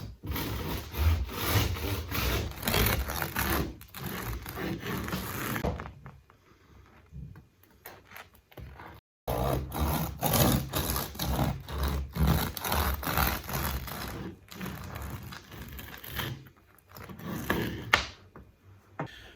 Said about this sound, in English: you heard when I was slicing into it, we've got that really, really crunchy